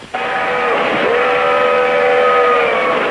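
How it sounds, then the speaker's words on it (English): A loud, sustained steam train whistle holding one steady chord for about three seconds, close and clear with no other sounds. "Remember, listen for the whistle."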